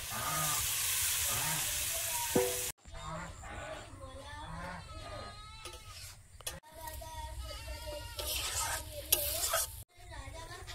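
Red lentils (masoor dal) tipped into a hot pan with turmeric, giving a steady frying hiss and stirring, broken by abrupt cuts and joined by tonal, voice-like sounds in the background.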